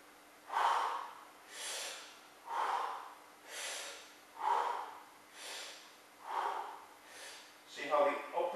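Deep, rhythmic breathing during a kettlebell jerk demonstration, about seven slow alternating exhales and inhales, close and fairly loud, ending in a brief rough breath.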